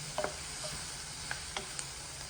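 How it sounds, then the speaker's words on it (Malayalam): Onions and chillies sizzle softly in a pan on the stove while a spoon stirs them, scraping lightly now and then over a steady low frying hiss, with no voices. "നല്ലോണം ഇളക്കി കൊടുക്കണം."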